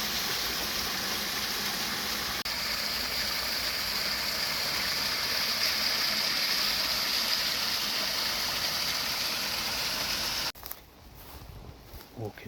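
Steady broadband rush of a waterfall pouring in the wilderness, loud and close, continuous for most of the stretch before cutting abruptly to a quieter, thinner background near the end.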